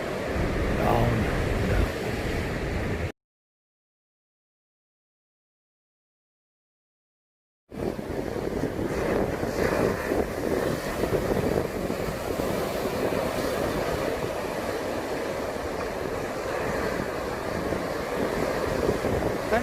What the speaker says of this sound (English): Don't you just love waves?